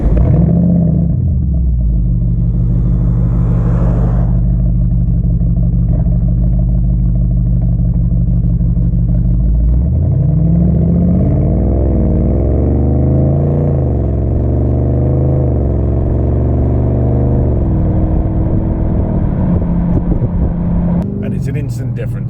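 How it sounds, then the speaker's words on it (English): Deep, loud exhaust drone from a 2024 Audi RS6 fitted with an AWE SwitchPath exhaust with the valves open, swelling into a rising rev around the middle and holding a steady, close rumble throughout. "Much louder exhaust note."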